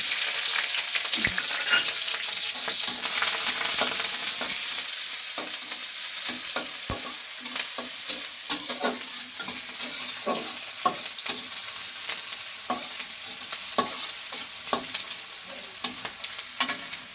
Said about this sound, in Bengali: তেল গরম হয়ে গেছে, দিয়ে দিচ্ছি পেঁয়াজ কুচি,